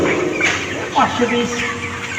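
Chickens cluck and chirp at a small poultry farm of 33-day-old birds, several overlapping calls close by under a steady background.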